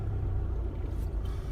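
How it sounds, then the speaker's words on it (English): Steady road traffic from cars and trucks forms a constant low rumble, fairly loud and continuous with no voices. "This traffic is absolutely bloody ridiculous."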